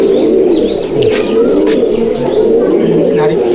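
Gurudevwala breed pigeons at a loft keep up a continuous close cooing chorus, with occasional chirps and flutters, and a voice is faintly present underneath.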